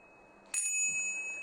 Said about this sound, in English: Put the bell down.